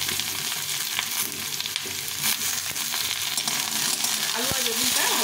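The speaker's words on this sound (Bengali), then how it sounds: "এই বেগুনগুলো একটু ভেজে নিব।" Eggplant pieces fry in hot oil in a pan, a steady loud sizzle with crackling and occasional stirring scrapes, no talking.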